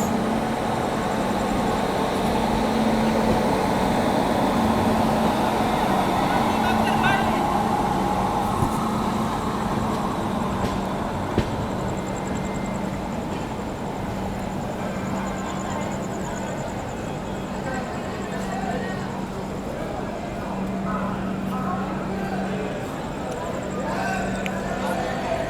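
The Gaya–New Delhi Mahabodhi Express on an Indian railway, heard as a continuous loud rumble with a steady tonal hum, and voices murmur faintly in the background throughout.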